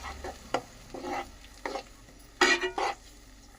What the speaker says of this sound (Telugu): సో ఈ పేస్ట్ తీసుకెళ్ళి వేగుతున్న ఆనియన్లో వేసుకుందాము. పేస్ట్ వేసాక ఇది కలిసేంత వరకు కలుపుకుందాము.